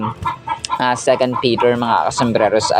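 A chicken clucking repeatedly in the background while someone talks over it, the rhythmic clucks mixing with his speech at close range.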